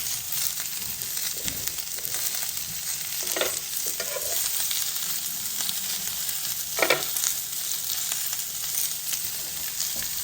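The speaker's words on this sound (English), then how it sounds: "And we're gonna add the onions now, okay? And the onions are gonna release a lot of moisture into the pan." Onions hitting a hot pan with bacon, mushroom and cabbage in a keto stir-fry, a constant close sizzle with occasional scraping stirs and brief louder crackles.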